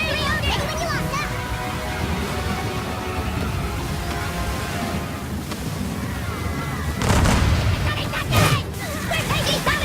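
Ship cannons fire in a naval battle in Assassin's Creed III, with two heavy booms late on under steady sea and battle noise, while crew voices talk throughout.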